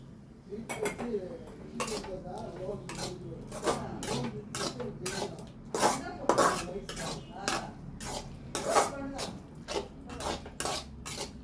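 A metal spatula clangs and scrapes on a dosa griddle, chopping and smashing an egg chili chicken parotta with curry poured in. The strikes are loud, close and come in a fast, uneven rhythm with no talking.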